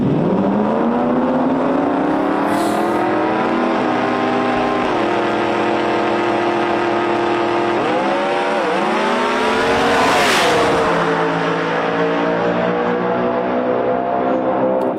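Loud race car engines rev and roar continuously, pitch climbing and dropping through gear changes, with a sharp surge of revving near the end.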